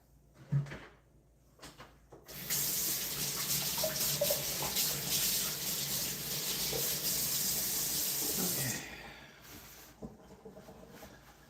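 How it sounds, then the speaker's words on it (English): Water runs from a kitchen sink tap for about six seconds as hands are rinsed, a steady close hiss and splash between quieter clinks and rubbing at the start and end. "Let me go rinse my hands off."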